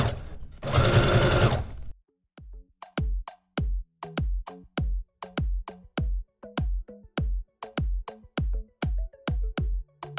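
Sewing machine stitching fabric for a shark-shaped stocking, running in a steady series of short, evenly spaced stitching bursts close up, after a brief loud rustle as the fabric is turned.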